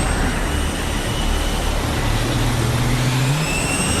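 Fighter jet engine running on an aircraft carrier deck, a loud, dense, broadband roar that holds steady throughout, with a faint low tone sliding upward near the end and no talk.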